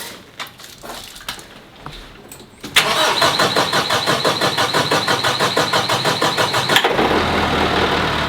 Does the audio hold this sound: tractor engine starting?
yes